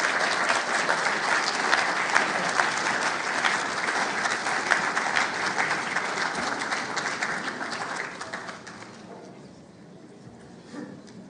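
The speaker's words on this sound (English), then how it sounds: "Once more, a big round of applause for Hakima." Sustained applause from a large audience at the opening of the Liberal International congress, dense steady clapping that gradually thins and fades toward the end.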